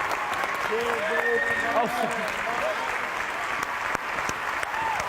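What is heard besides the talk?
studio audience applause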